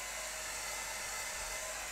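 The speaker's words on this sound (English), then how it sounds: "just have the hairdryer on just very quickly" A hair dryer blows a steady, loud whooshing roar close by while drying a watercolour painting of snowdrops. The drone stays constant and there is no talking.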